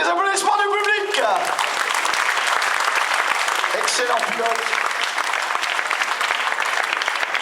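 Spectators at the 2015 Orthez rally applaud steadily, a continuous crackle of hand claps running throughout while a commentator's voice speaks over the start and middle.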